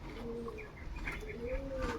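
Soft, low pigeon coos roll out in drawn-out phrases against a steady background hum, with faint chirps here and there.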